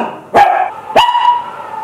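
Two sharp barks from a pet dog, about half a second apart, each trailing into a brief whine, close and loud in a quiet room.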